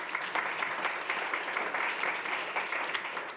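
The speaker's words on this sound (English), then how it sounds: "I think the applause is as much for you," Audience applause for speaker Danielle after her talk on abduction, torture and sexual violence in war, a dense, steady patter of many hands at moderate volume throughout.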